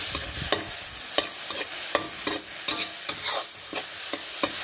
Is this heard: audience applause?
no